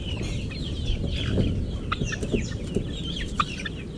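A Japanese Dumpo Shamo hen clucks repeatedly in short, close, fairly loud bursts, with soft farmyard background and no talking.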